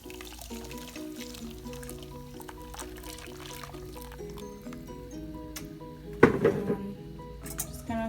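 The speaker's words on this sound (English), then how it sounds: "put my strainer back over, and then just gonna pour my sauce into it." Tinga sauce poured through a strainer, a steady liquid pour and splash that swells near the end, under tonal background music with no talk.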